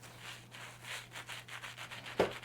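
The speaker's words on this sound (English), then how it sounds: "You can hear the mousse, you can hear the foam" Soft, rhythmic rubbing and brushing strokes through mousse foam in damp, air-dried curly hair, repeated steadily, close and fairly quiet, ending with a brief sharper scrape.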